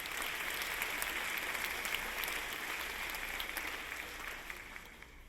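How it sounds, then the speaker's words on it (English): Audience at a college faculty convocation applauds steadily, a dense, even wash of clapping that holds for several seconds and eases slightly toward the end, with no voices over it. "Let's give them another round of applause."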